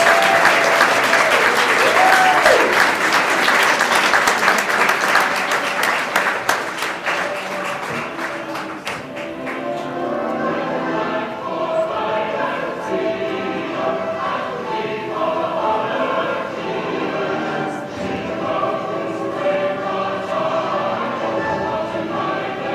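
Audience applause for standing United States Marine Corps veterans at a veterans event in Sedona, loud dense clapping for about eight seconds, then a quieter lingering patter with murmuring voices.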